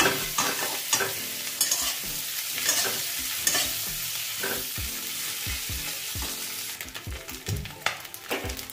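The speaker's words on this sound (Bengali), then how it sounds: "তো এখন আমি মিডিয়াম ফ্লেমে এই মাছটাকে একটু লাল করে ভেজে নেব।" Dried fish fries in a pan over a medium flame, a steady crackling sizzle broken by repeated scraping stirs of a spatula against the pan, with no talking.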